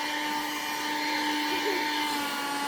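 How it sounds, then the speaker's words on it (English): A small wet and dry vacuum cleaner, bought for cleaning sofas, runs steadily with a constant, fairly loud whine and motor hum, heard close up and on its own. "I got this small vacuum cleaner. It's a wet and dry one that we will use to vacuum clean like the sofas."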